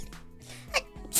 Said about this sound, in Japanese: やばい、くしゃみ出そう。